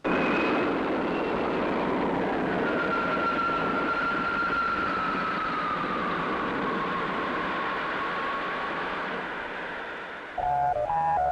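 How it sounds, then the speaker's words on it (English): Galasphere 347 spacecraft taking off in a 1962 puppet science-fiction series, a steady roaring engine rush with a slowly falling whine across it, fading a little before a brief change at the end. "Galasphere 347 is cleared for takeoff."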